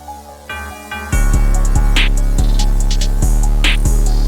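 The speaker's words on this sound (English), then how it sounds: "I added this bell actually" A loud hip hop beat made in FL Studio with thumping kicks and snappy hits, topped by a bright, ringing bell sample repeating over a static-laced texture.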